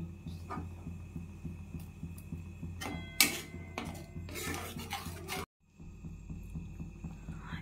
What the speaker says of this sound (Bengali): এক ভাগ দুধের সঙ্গে মিশিয়ে দেবো। এবারে দিয়ে ভালো করে এবারে একটু নাড়বো